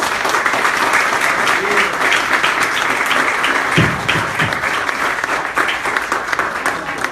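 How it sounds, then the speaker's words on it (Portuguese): A church congregation claps together, loud and continuous, in a dense and even burst of applause with faint voices mixed underneath. "Palmas para Jesus."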